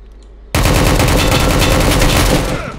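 Video game gunfire in Project Delta bursts in suddenly as a loud, close stream of rapid automatic shots lasting a couple of seconds.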